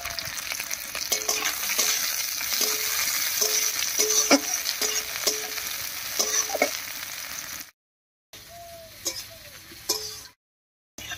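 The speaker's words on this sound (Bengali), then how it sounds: "পেঁয়াজ রসুন কাঁচা লঙ্কা সবই ভাজা ভাজা হয়ে গেছে" Slit green chillies, onion and garlic sizzle loudly in a hot pan while a spatula scrapes and taps repeatedly as they are stirred, with two short gaps of silence toward the end.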